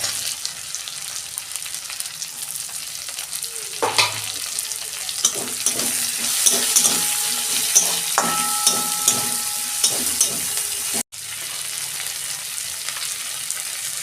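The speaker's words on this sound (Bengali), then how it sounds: "ওই তেলের মধ্যে শুকনো লঙ্কা একটা, তেজপাতা আর গোটা জিরে। ওই তেলের মধ্যে পেঁয়াজ দিয়ে দিচ্ছি।" Onions frying in oil with a dried chilli, bay leaf and whole cumin for potol chingri, a continuous bright sizzle with intermittent scraping and stirring clatter throughout, close and steady, no speech.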